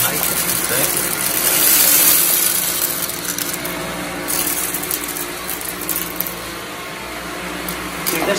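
A Samsung Bespoke Jet cordless vacuum cleaner runs steadily over a floor, a loud close motor whine that swells as it is pushed and eases off, with a few faint rattles and no talking.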